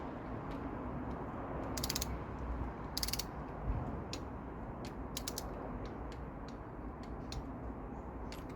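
Ratcheting clicks from a torque wrench set to 7 pound-feet (10 newton-metres) tightening the throttle body bolts on a Mazda MX-5 NC Mk3, heard in short bursts of quick ticks over a steady background hum.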